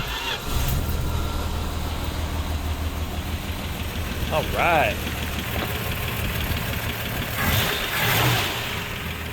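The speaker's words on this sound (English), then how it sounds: "See how much less belt noise there is now." A 1976 Plymouth Duster engine idles with a steady low rumble and quieter belt whine, a voice speaking briefly over it.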